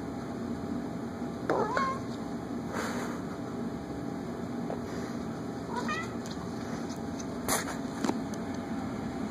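A few short meows sound over steady background noise, spaced apart, with some faint voices.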